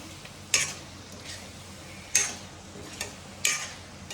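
Fish curry stirred in a pan: three distinct scraping strokes of a spoon at spaced intervals over a quiet, faint simmer, with no talking.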